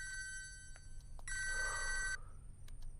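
A telephone bell rings in short electronic trills, a brief burst followed by a longer sustained ring, fairly close against a low background hum.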